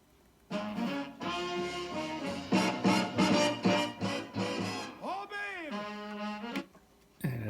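Old mono recording of music played from a disc in a Technics CD changer through a 1997 Sony SLV-AV100 surround receiver, a continuous passage of tonal musical sound, moderately quiet, with a brief gap near the end.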